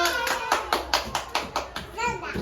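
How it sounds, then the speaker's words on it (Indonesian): A short round of clapping after a storytelling performance, sharp claps in an uneven rhythm, with children's voices chattering alongside. "tepuk tangan dulu"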